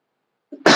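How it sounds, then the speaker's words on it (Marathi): A single short, loud cough bursts out near the end after a faint throat sound, close to the microphone, otherwise silent. "चला, खोकला आला"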